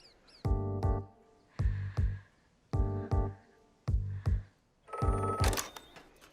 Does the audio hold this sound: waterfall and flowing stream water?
no